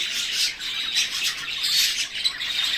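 Birds in an aviary pen squawk and chirp continuously, with overlapping harsh calls close by and no talking.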